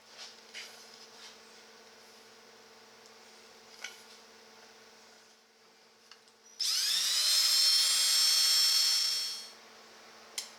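A power drill bores bolt holes in a shop-built wooden 12-inch disc sander, rising into one loud, high-pitched whine for about three seconds after quiet clicks and bumps on the bench.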